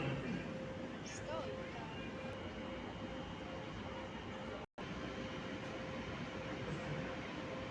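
Steady low rumble of a train at a platform in Kraków Główny station, a continuous mechanical drone with a faint tonal hum and a brief dropout midway.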